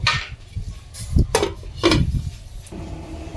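Clanks and clinks of a metal lid set onto a pot of boiling amla in a kitchen, several sharp knocks with short pauses between them, close and fairly loud.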